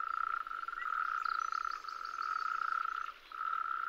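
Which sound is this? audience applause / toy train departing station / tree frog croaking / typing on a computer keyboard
tree frog croaking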